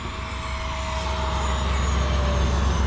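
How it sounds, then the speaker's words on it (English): An RC F-16 Falcon fighter jet makes a full-throttle pass, a steady, broad roaring rush with a sustained whine, moderately loud and unbroken, with no talk. "Let's do full throttle passes, Abby. We're gonna go from right to left and then left to right, full throttle. Here's full throttle."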